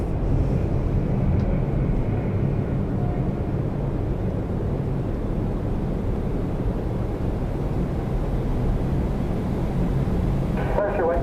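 An Air Canada airliner departing Toronto Pearson makes a steady, broad roar that holds at a constant level, with wind buffeting and faint radio chatter in the background.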